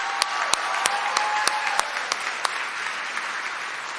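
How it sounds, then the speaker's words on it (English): Applause from a college commencement audience, dense, steady clapping heard from a distance in a large hall, with a few sharper individual claps standing out near the front. "Let's give her a round of applause."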